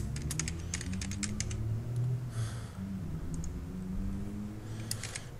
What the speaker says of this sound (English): you don't have to type this, but I'll type it anyway